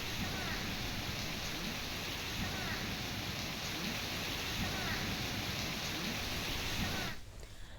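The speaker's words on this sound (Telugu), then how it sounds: "ఎడతెరిపిలేని వర్షానికి రహదారులపైకి వర్షం నీటితో వాహనదారులు ఇబ్బందులు ఎదుర్కొన్నారు" Heavy, unrelenting rain on city roads in the Telugu states, with floodwater on Raj Bhavan Road and pooling under the Telugu Talli flyover, makes a dense, steady hiss that cuts off abruptly near the end.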